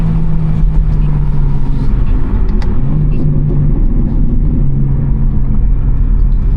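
A BMW M3 G80 with a tuned engine heard from inside the cabin, a loud, steady low engine drone and road rumble that holds at an even pitch, with no distinct shift break audible.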